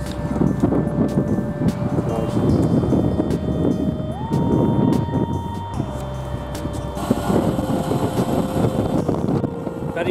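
Strong seaside wind at Colwyn Bay buffets the microphone with heavy continuous rumble, while a steady tonal hum drifts in and out underneath.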